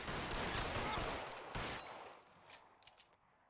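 Gunfire from a shootout in the video game L.A. Noire: a dense, loud burst of overlapping shots fills the first seconds, then tapers off into scattered, fainter reports.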